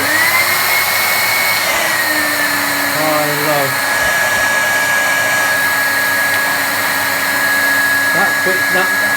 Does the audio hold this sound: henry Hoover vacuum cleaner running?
yes